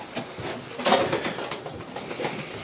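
Racing pigeons bred for one-day long-distance races coo softly inside a Belgian loft, a steady murmur of overlapping low calls with one brief louder burst, no voices over them.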